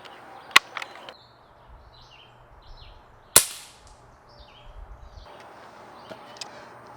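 A Crosman 760 Pumpmaster air rifle, pumped ten times, fires two sharp, snappy cracks several seconds apart in a quiet outdoor backyard, with faint birdsong and light clatter between shots.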